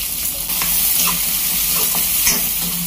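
Chopped green chillies, curry leaves, finely chopped onions and cumin fry in hot oil, a steady loud sizzle and hiss. Soft stirring scrapes come now and then, and nobody speaks.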